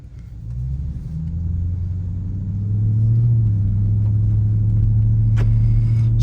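A 2024 Ford F-150 Raptor R in sport mode cruises through town, its engine a deep steady rumble that swells as it accelerates, loud and close from inside the cabin, with no talking.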